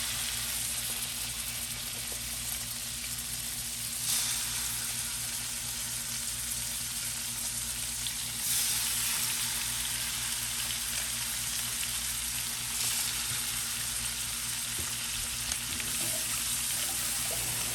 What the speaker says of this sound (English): Y'all know I love to hear that sizzle.